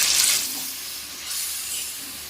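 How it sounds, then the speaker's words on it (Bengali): Water poured into a pan of sizzling chicken curry, a loud hiss and splash bursting at the start, then settling into a softer steady sizzle. "এবারে দিয়ে দিচ্ছি জল তবে জল কিন্তু খুব বেশি দিচ্ছি না অল্প জল দেবে"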